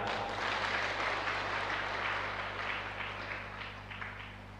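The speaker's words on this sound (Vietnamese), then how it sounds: "Bây giờ mới vỗ tay." A Vietnamese Buddhist dharma talk audience applauds: a soft, steady wash of clapping, faint and distant over a low background hum, with no speech.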